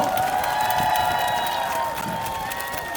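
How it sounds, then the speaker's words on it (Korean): An audience at an outdoor concert applauds and cheers for a traditional Korean instrument ensemble, a loud, dense wash of clapping with whoops that stays strong throughout, then eases slightly toward the end. "여러분 박수 한번 보내주세요."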